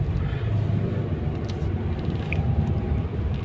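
A motorized tricycle travels along a road, heard as a continuous low engine drone and road rumble, fairly loud and close.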